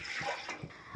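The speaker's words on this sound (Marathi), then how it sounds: "यामध्ये मी पाणी घालून घेते" Water is poured into a pressure cooker holding dal, a brief soft splashing fill in a quiet kitchen with a few faint thuds.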